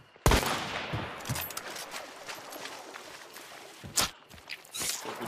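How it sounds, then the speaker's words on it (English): Footsteps squelch through mud in the video game Hunt: Showdown: a run of sharp, close steps, with louder thumping impacts near the start and again toward the end. "There, there's steps in the mud."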